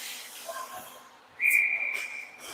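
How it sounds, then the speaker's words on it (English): During a girls' junior hockey game, a referee's whistle shrieks for offside, one sharp sustained blast rising above the muffled arena hubbub and a commentator's voice. "That's going to be a whistle for offside on the Greyhounds now."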